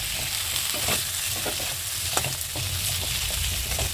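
Potato pieces frying and being stirred into a snakehead fish curry, giving a loud continuous sizzle with repeated scraping stirs and clinks, no talk.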